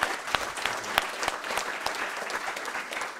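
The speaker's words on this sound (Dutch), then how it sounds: "Een groot applaus." Audience applause after a panel discussion at an evening event, steady clapping with distinct individual claps standing out from a moderate crowd.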